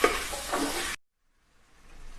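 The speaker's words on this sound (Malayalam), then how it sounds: "ഇതിലേക്ക് വലിയ 2 തക്കാളി നമ്മൾ ഇതിലേക്ക് ചേർക്കുകയാണ്. ഇനി ഇത് നല്ല രീതിയിൽ വഴണ്ടു വരട്ടെ." Two large tomatoes sautéing in a pan for Kerala-style crab roast, a loud steady sizzle with stirring that cuts off abruptly, followed by silence and then faint sizzling returning.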